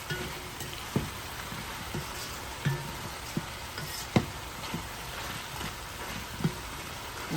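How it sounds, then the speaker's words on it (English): Food is stirred in a pot while cooking Cuban carne con papas, with a constant soft sizzle under repeated spoon scrapes and taps against the pot at irregular intervals. "Stir that around."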